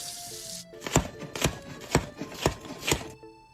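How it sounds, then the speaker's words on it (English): A sharp knife chops vegetables in a video game, five crisp, evenly spaced strikes about half a second apart, close and distinct against a quiet background. "he washed the veggies thoroughly before chopping them up with an extra sharp knife"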